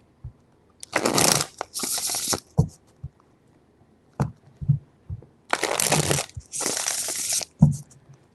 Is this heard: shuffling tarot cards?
yes